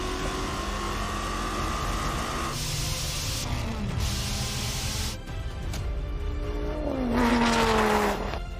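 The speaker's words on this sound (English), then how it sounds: "The Viper holds its advantage, meter after meter, second after second, until it crosses the finish line first." A Dodge Viper GTC with a V10 and an 850 hp Mustang race to a quarter-mile finish, a loud, continuous engine roar with rising and falling whines as they pass, swelling to a peak near the end.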